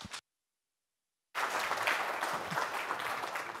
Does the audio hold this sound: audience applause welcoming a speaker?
yes